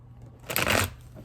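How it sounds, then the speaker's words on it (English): Tarot cards being shuffled by hand, one quick riffling burst lasting about half a second, close and crisp against a quiet background, with no talking. "Give me one more shuffle for Virgo."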